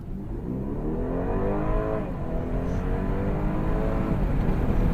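A 300-horsepower BMW pulls away hard from a standstill, its engine heard close from inside the car as the revs climb steadily, with a brief dip at a gear change before it pulls again.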